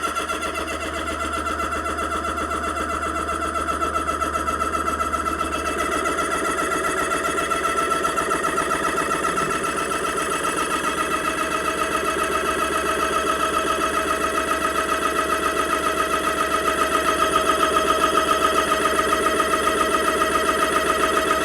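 A loud, steady mechanical hum with a constant buzzing drone from an Umarex ReadyAIR personal airgun air compressor, pumping past 100 bar, runs throughout, getting slightly louder near the end, with no talking.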